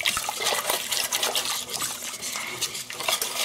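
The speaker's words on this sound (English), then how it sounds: "I like to use a ladle to get this over into the ramekins" Vegan pumpkin custard mixture is ladled into ramekins with soft wet trickles, gentle sloshing and light clinks of the ladle against dishes, close and quiet with no talk.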